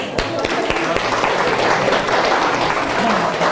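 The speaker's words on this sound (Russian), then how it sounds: "Стоп, бурные аплодисменты." An audience breaks into loud, sustained applause at a motivational talk, a few sharp claps at the start swelling into a dense, continuous roar of clapping.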